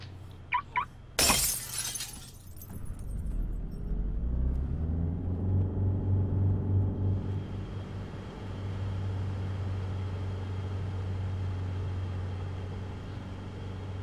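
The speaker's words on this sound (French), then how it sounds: "Vous entendez les tirs, c'est juste à nos pieds, monsieur." Close gunfire in Arma 3 Altis Life at a police roadblock: a couple of sharp shots and a loud crack near the start, then a low engine-like rumble and steady drone carrying on for the rest, with no talk.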